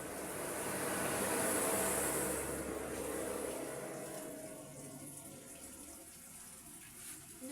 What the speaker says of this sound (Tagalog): Ito naman ang susunod nating hugasan.